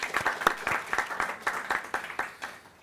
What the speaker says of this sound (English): a round of applause, I think, for everyone.